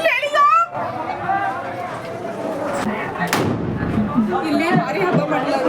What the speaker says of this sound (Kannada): ಫುಲ್ಲು ಪಟಾಕಿ ಹೊಡಿತಾ ಇದ್ದಾರೆ.